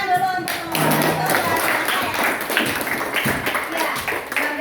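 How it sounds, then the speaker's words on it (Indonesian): Close, lively clapping from a classroom of students applauding a group after its presentation, a quick rough patter of many hands with some voices mixed in. "tepuk tangan dulu untuk kelompok"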